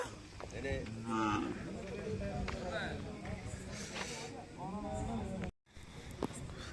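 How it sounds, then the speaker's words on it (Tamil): Jersey cattle at the night cattle market in Valliyur moo repeatedly in a noisy crowd, their calls mixed with steady chatter of people nearby. "இங்கே ஃபுல்லாகவே ஜெர்சி மாடு தான் வரும்"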